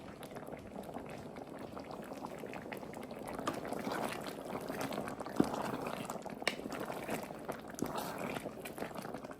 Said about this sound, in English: Oh, she's starting to boil already.